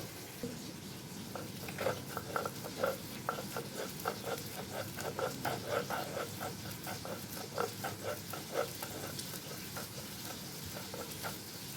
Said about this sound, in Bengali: এখন আমি এটা বাটবো, বেটে বেটে ভর্তা রেডি করব।